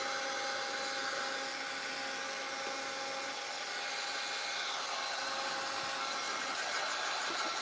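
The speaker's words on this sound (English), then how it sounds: "Always keep your heat gun moving" A heat gun drying paint on a handmade oyster-shell baby Jesus manger craft blows a constant loud, broadband whooshing roar that stays steady throughout, close to the microphone, with no talking.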